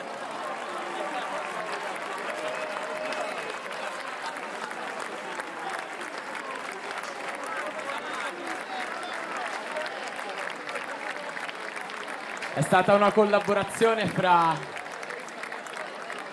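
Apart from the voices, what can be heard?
concert audience applauding the children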